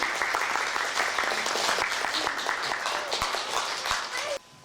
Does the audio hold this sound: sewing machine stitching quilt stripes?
no